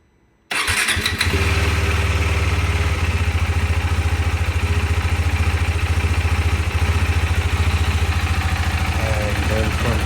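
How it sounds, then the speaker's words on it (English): A 2023 KTM RC 390 motorcycle engine starts after a short silence, then settles into a steady, loud, close idle that holds without change for the rest of the stretch, with no talk over it. "So now we're just gonna start the bike and let it run until it reaches somewhat of that operating temp."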